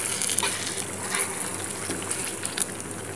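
Marinated chicken sizzling and frying in spices in a pan for chicken korma, a steady wet hiss and crackle with light stirring scrapes, close and moderately loud, no voices.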